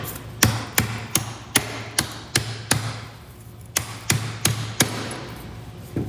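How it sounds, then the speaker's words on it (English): A hammer gives sharp, evenly spaced taps to soil on a handmade garden fairy house: about a dozen crisp close strikes with one short pause midway. "I'm just going to go back in with my hammer and I'm just going to give it an extra little tap."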